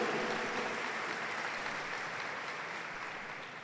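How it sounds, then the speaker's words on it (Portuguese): Congregation applauding during a Sunday Mass homily, a smooth, continuous wash of clapping from a large crowd heard from a distance, slowly fading toward the end. "Dê uma salva de palmas para aqueles que te insistiram."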